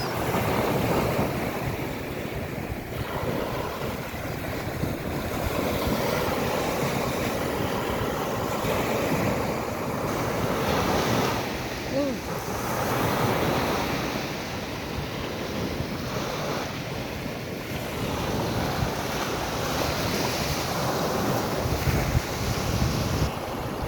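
Strong, rough sea waves surge and crash continuously in bad weather near the shore, loud and close, with heavy wind buffeting the microphone throughout.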